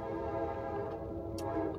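A train passes on a track just behind, giving a steady, close rumble with a sustained tonal hum that holds loud and even throughout, with no voices over it.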